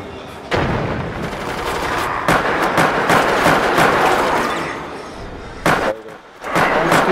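Loud, dense blasts and booms from bomb and gunfire explosions in Resident Evil: Operation Raccoon City, several sharp bursts over a continuous roar, with brief talk mixed in.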